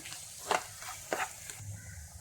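Half an onion, finely chopped, being sautéed and stirred in a pan for a Kerala dish: faint, soft sizzling with a few brief scraping stirs, quiet and close, no talking.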